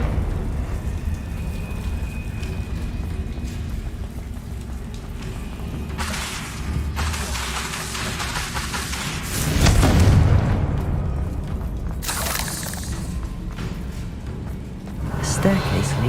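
A deep, rumbling fire-explosion blast from the Confringo spell in Hogwarts Legacy, a loud boom in the middle over steady game music and ambience, with a voice talking alongside.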